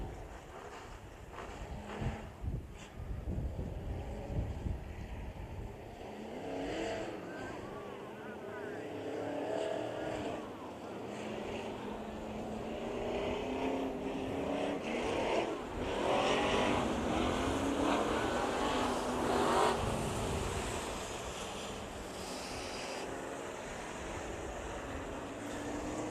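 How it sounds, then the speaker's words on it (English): Race cars cycle around the dirt oval at Bakersfield Speedway before a heat race, a steady engine roar rising and falling as they pass, with wind buffeting the microphone. "Cars cycle on by."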